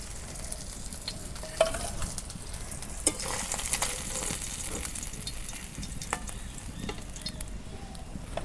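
River fish frying in a pan, a steady close sizzle with occasional sharp pops and utensil clicks, no voices.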